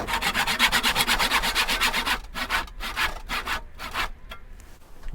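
A hand saw cuts wood to shape a guitar neck, steady back-and-forth strokes close up, rhythmic and brisk at first, then slower and more spaced out toward the end.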